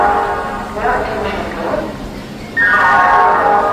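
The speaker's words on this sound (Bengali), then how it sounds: "আমাদের ট্রেন এখন ছাড়লো হাওড়া জংশনের 17 নম্বর প্ল্যাটফর্ম" A local train pulls out of platform 17 at Howrah Junction with rolling rail noise and a loud tonal squeal or horn rising near the end, while someone talks over it.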